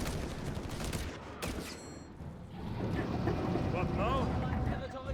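Heavy gunfire from German Panzer guns in the video game Company of Heroes 3, a loud, dense barrage of booms and shots that runs continuously with rumbling explosions and commentary talk over it.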